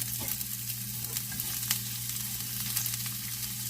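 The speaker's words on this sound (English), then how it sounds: "So again, you just want to saute them up." Vegetables for steak fajitas sauté in a hot pan with a soft, continuous sizzle and light crackle, fairly quiet, with a low steady hum underneath and no talking.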